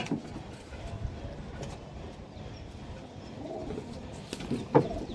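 Desi high flyer pigeons at a pigeon sale in Nabadwip, cooing softly amid a busy low background murmur, with a brief louder coo near the end.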